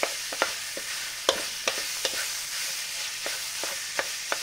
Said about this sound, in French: on va la laisser cuire tranquillement aussi